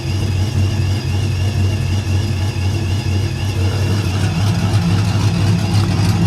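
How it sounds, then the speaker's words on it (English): A Ram pickup truck idles steadily with its SPELAB electric exhaust cutout open, giving a loud, continuous, rumbling exhaust drone close to the microphone with no talking. "Now the exhaust cutout is open, as you can hear."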